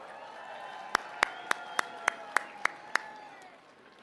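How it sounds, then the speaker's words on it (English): Applause for President Trump at a Faith & Freedom Coalition event comes as eight sharp, evenly spaced claps in a steady rhythm over a quiet background, then fades out. "Let's give one more round of applause to President Trump for coming today"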